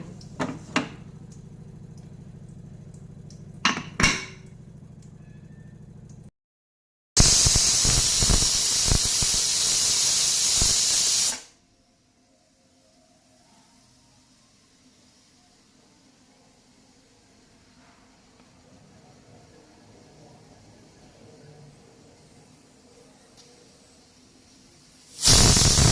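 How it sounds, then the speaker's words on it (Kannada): A pressure cooker holding bitter gourd lets out one loud, sustained whistling hiss of steam lasting several seconds, set between quiet stretches with a few clicks, and a second burst starts right at the end. "ಈಗ ಕುಕ್ಕರ್ ಕ್ಲೋಸ್ ಮಾಡಿ 3 ವಿಷಲ್ ಹೊಡೆಸ್ಕೊತಾಯಿದ್ದೀನಿ."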